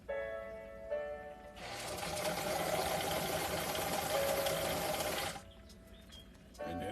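A vintage sewing machine runs a steady, continuous stitching burst of about four seconds along a seam, starting and stopping abruptly, with quieter gaps and faint handling noise before and after.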